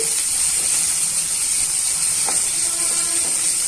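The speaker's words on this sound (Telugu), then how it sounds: "ఇవన్నీ కూడా ఈవెన్గా మిక్స్ చేసుకొని వేయించుకోవాలి పచ్చివాసన పోయేంత వరకు వేయించుకోండి" Ginger garlic paste fries in a pan for a raw-banana stir-fry, giving an even, steady hiss that stays unbroken throughout, with a faint tap or two near the middle.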